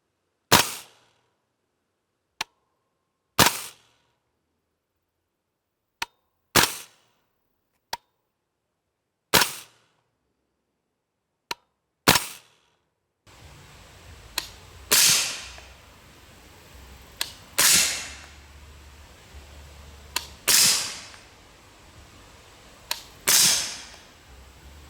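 A suppressed 300 Blackout rifle fires Winchester Super Suppressed 200-grain open-tip-match subsonic rounds, about a dozen sharp, separate cracks at irregular intervals, the later shots over a steadier outdoor background hiss.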